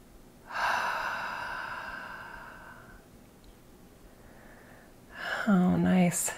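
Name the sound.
deep breathing during guided relaxation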